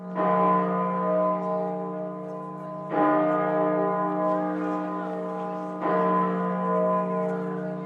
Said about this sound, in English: At the Minster in York, the bells tolled 99 times